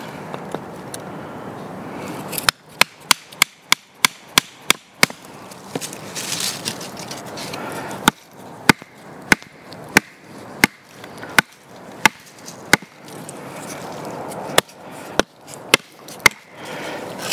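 A Perkin PN101 knife is batoned into wood, giving a long series of sharp, loud, close knocks in irregular bursts, several quick strikes at a time separated by short pauses.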